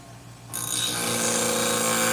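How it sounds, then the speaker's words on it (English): Sewing scissors are sharpened on a spinning 240 grit diamond wheel, a quiet motor hum abruptly joined by a loud, steady grinding hiss of metal on the abrasive wheel, sustained and close. "I'm using a 240 grit diamond wheel from Continental Diamond Tools."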